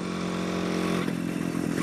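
A restored pre-war DKW KS200 motorcycle, a 200 cc, 7 hp machine, running close by with a steady droning engine note that shifts and roughens partway through.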